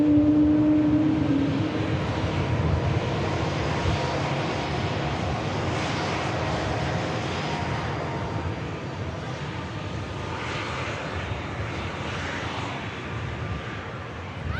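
Canadian Air Force Hercules turboprop aircraft with its engines running, a loud, sustained droning roar that eases slightly over time with a faint whine on top, heard at a distance outdoors.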